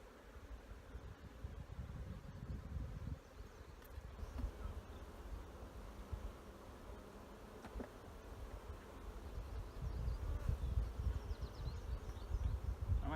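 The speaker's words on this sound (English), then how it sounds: "lots and lots of bees." Many honeybees buzzing while a nuc is installed into a hive: a dense, low, continuous hum close by, swelling a little louder toward the end, with no talk.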